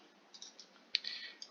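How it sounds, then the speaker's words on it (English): Faint, quiet computer keyboard presses while playing a train game: a few scattered light clicks, with one sharper tap near the middle and no talk. "here, I can just press G on the keyboard instead"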